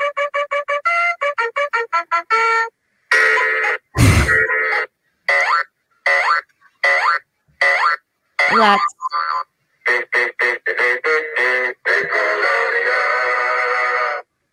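The Salute Your Shorts TV theme song plays in choppy, punchy bursts of bright tuneful music, with singing voices and stop-start phrases separated by brief gaps.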